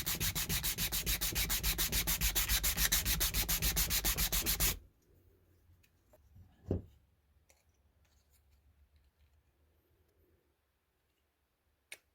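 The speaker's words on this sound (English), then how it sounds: "I will just sand this until it's a nice snug fit" A piece of wood is hand sanded for a snug fit, giving close, rapid rhythmic scratching strokes for about five seconds, then stopping, followed by a few faint taps and a thud in a quiet room.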